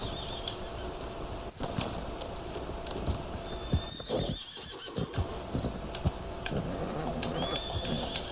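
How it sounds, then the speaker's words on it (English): A horse whinnies a couple of times amid clip-clopping hooves and scattered clicks in the video game Red Dead Online, with a faint bird chirp in the background. "Why is my horse not moving right now?"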